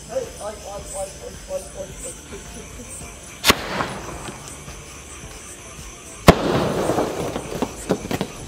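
A Cock Brand Jasmine mini sky shot firework, part of a 2024 Penta Sky Flash pack, is test-fired: two sharp launch cracks several seconds apart, each followed by a crackling hiss. Voices talk at the start.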